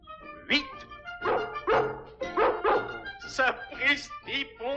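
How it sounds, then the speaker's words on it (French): Newborn puppies in an animated Disney film let out a run of high, short yips and whimpering barks in quick uneven bursts, close and clear, with voices mixed among them. "Les petits chiens sont nés."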